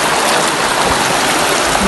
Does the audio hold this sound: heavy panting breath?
no